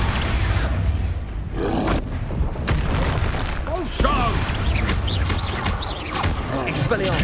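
Spell-casting blasts from Hogwarts Legacy: a rapid string of booming magical explosions and crashing impacts, loud and continuous, with a voice shouting over the din.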